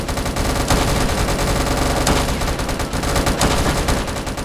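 Rapid automatic gunfire in a video game crackles in dense, loud bursts throughout, with shots overlapping in near-continuous volleys.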